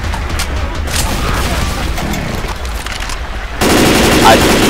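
Gunfire in Left 4 Dead 2, rapid automatic bursts close and loud with a heavier stretch of shooting near the end, mixed with game noise.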